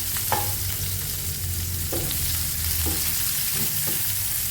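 Steady oil sizzle of garlic, onion and ginger browning in a pan with black pepper, a constant loud frying hiss broken by occasional soft stirring clinks and scrapes, with no voice.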